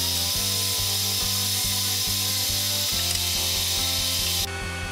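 A power drill bores a 3mm hole into a wooden frame for a slingpuck game board, giving a loud, steady motor whine with a rhythmic pulsing underneath that shifts near the end.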